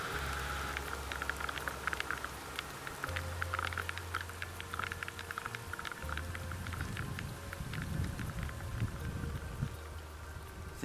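Rain patters steadily outdoors, heard from beneath an upturned canoe used as shelter, with dense drops tapping on the hull and surroundings and a low rumble underneath, continuous throughout with no talking.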